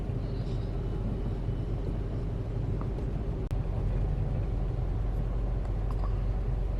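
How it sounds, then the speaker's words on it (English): A deep, steady low rumble from a subway train running underneath New York City, shaking a parked car; the drone holds continuously, with a faint brief knock midway and no talking. "Car shaking from the subway below."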